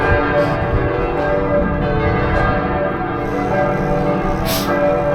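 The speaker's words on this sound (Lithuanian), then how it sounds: "Niekad neklausk, kam skambina varpai, nes jie skambina tau." Church bells peal continuously and loudly with layered, ringing tones, heard outdoors before a gravel bike ride of over 100 km, with no talking over them.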